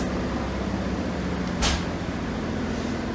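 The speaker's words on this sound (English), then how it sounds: "I love the sound of sprinters in the morning." A Sprinter diesel train heard from inside the carriage: a steady low engine drone and rumble throughout, with a brief hiss partway through and no voices.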